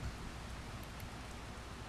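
Steady rain in the farming video game Farming Simulator 25, a soft continuous hiss of falling drops with no voices.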